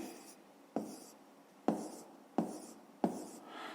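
A pen writes numbers for a fifth-grade maths exercise, five crisp scratching strokes at a steady pace, each followed by quieter scribbling, close and alone.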